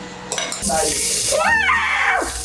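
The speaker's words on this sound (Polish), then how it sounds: "smaży tam dobrą cebulę" Onions fry in a pan while pierogi are being made, a steady sizzle rising after a moment, with utensil clinks and scraping and a voice heard over the cooking.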